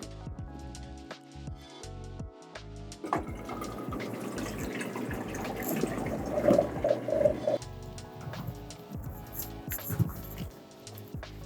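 Water pours steadily into a pot for several seconds, a continuous splashing stream with a few clinks, fairly close and moderately loud, with no talking.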